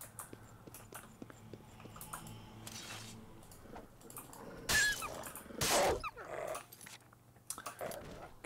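A dog in The Elder Scrolls IV: Oblivion barks and growls in short bursts amid game sounds such as footsteps and clicks, faint overall, with a couple of louder barks in the middle.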